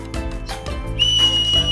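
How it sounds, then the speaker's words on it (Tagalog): A person calls pet birds to their feed with a loud, sustained whistle at an outdoor park setting. Several shorter clattery sounds come first, and then one long steady whistle tone holds to the end. "So, panay ang pito ko dyan."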